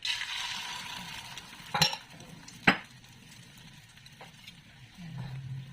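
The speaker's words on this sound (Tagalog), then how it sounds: "So, dito na tayo sa pagprito." Eggs frying in a pan on a home stove, a steady faint sizzle with soft utensil scraping and two sharp metallic clanks partway through.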